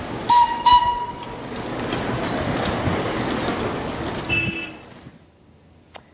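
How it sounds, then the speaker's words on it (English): A tiny 4-wheeled steam locomotive from the 19th century rumbles and clatters steadily past after two short high whistle toots, then the noise fades to near silence. "The tiny 4-wheeled steam locomotive is a living legend of the 19th century"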